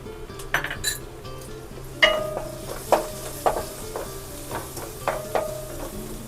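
Onions fry in a pan with turmeric added for a ridge gourd and chana dal curry, a low sizzle running under repeated sharp clinks of a spoon stirring against the metal pan.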